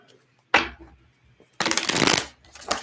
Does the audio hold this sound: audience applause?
no